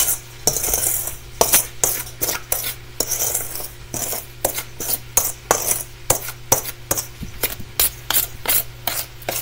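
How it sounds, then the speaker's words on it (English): A spoon scrapes and clinks around a bowl while salt is stirred into a mixture, a steady series of sharp scraping strokes at close range over a low constant hum. "I'm going to stir this up really good."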